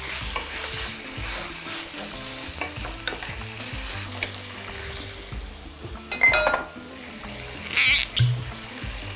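Lamb and quince fry in a pan with a steady, close sizzle, broken by stirring scrapes and a few louder utensil clatters near the end.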